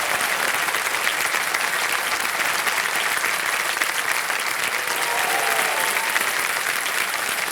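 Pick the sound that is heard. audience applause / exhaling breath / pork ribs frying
audience applause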